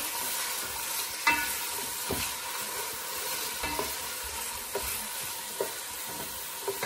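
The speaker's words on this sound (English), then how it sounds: "Some onions. Give this a good stir." Onions fry in a pan while being stirred, a steady loud sizzle with scattered soft scrapes and taps of the utensil against the pan.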